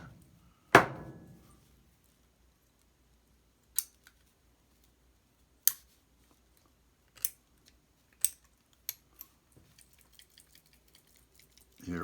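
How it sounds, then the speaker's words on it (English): A loose valve from a butane lighter rattles inside the metal tank, heard as one loud knock followed by a series of sparse, sharp clicks and taps that grow quicker and fainter toward the end, with no talk. "it did come out, but it's rattling around in the tank now"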